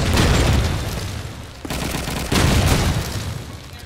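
Heavy gunfire from a first-person shooter match, loud bursts of rapid shots and booming blasts in quick succession, with sharp new volleys landing partway through.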